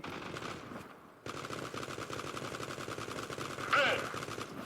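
Rapid automatic fire from a PP-2000 submachine gun in the mobile shooter Zula Mobile, a dense continuous burst running nearly the whole clip after a brief gap, with a louder flare near the end.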